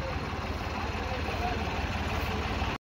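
A John Deere 5210 tractor idles at a tractor pulling match, a steady low diesel rumble with a constant mid-range drone, close and even, cutting off abruptly at the end.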